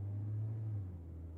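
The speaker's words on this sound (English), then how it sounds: "Cornelius's driver switches on the car and drives away." A car engine starts and the car pulls away, a faint low rumble that holds steady and then eases as the car moves off.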